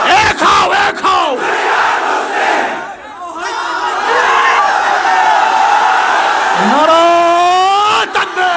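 A large crowd at Charmonai ground roars a religious takbir chant in unison, loud rising and falling massed voices led by a shouting caller, with brief pauses between calls.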